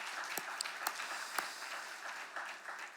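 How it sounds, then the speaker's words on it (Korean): Church congregation applauding during a Saturday early-morning service, a few seconds of faint, scattered clapping from a crowd some distance away. "이 시간 우리 힘찬 격려의 박수 한번 보내주시면"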